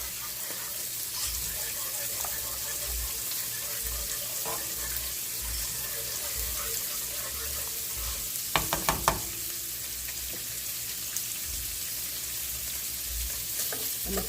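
Breakfast food stirred in a frying pan, with steady sizzling throughout and a brief cluster of scraping clinks from the utensil near the middle.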